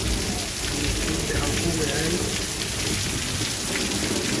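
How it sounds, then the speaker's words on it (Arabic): Heavy rainstorm in Windsor, Ontario pours down as a dense, continuous roar of rain hitting surfaces, loud and unbroken throughout, with a brief voice faintly under the downpour. "العاصفة ما كانت متوقعة بهالقوة"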